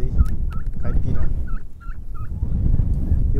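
A turkey hen gobbles in a rapid repeated series of nasal calls among free-range chickens, loud and close, over a low rumble of wind.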